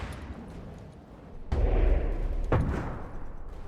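Naval guns firing in a warship battle game: two heavy booming shots about a second apart, each with a rolling low-end blast over a steady background rumble.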